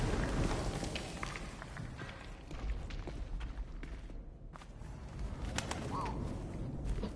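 A pigeon-like bird coos in the World War I game 11-11 Memories Retold. It is soft and brief, set in a busy, noisy game soundscape with low rumbles.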